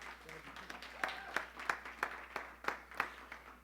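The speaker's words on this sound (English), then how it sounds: "Please, round of applause for you." Audience clapping at a motivational talk, a brief burst of applause with sharp individual claps standing out over a soft crowd patter, fairly distant and moderately quiet.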